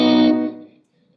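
Electric guitar played through a Boss delay pedal, one loud distorted chord that rings out then decays with faint echoing repeats trailing into quiet.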